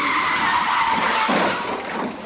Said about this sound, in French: C'est celui de deux bagnoles qui se rentrent dedans.